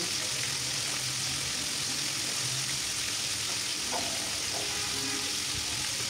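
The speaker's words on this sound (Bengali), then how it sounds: "লবণ দিয়ে ভেজে নিচ্ছি। একটু জোরে আঁচে, একটু বেশি করে আঁচ দিয়ে ভাজতে হবে" Chicken frying with salt on high heat, a dense loud sizzle that fills the whole stretch without pause, with a few faint clinks underneath.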